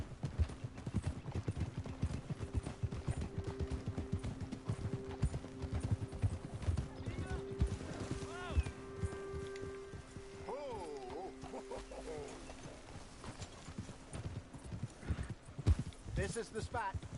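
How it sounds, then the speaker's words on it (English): Horse hooves clip-clopping in Red Dead Redemption 2, a brisk steady rhythm close by, with a whinny and people talking over the hoofbeats. "You got a problem with that horse?"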